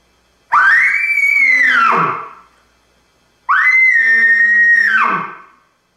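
Two long, high whistling bugle calls, each rising then falling into a lower grunt, with a pause between; clearly a person imitating an elk bull.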